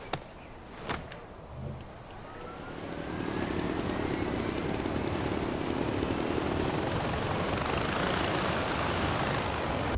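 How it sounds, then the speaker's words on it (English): A small one-seater helicopter in the video game Far Cry 4 starts up after a few clicks and a thump, then its engine and rotor settle into a steady, loud whir with a rising whine. "getting in a mini one-seater cool helicopter"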